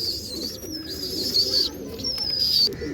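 Pigeons in a breeding loft, kept as breeding pairs alongside chicks, call close by. High, drawn-out whistling tones return several times over a low, steady background hum.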